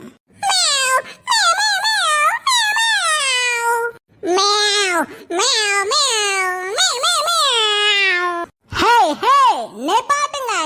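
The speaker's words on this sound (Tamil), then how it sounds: "என்ன மியா மியா மியாங்கறிய?" A cartoon cat in a Tamil ghost-themed animated comedy gives a long series of loud, drawn-out, wailing meows, one after another with brief gaps, close and clear with nothing else behind them.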